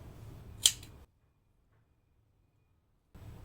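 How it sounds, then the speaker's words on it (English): A single sharp snip of scissors cutting crochet yarn, close and crisp over quiet room tone, followed by near silence. "then chain 1 and cut off your yarn"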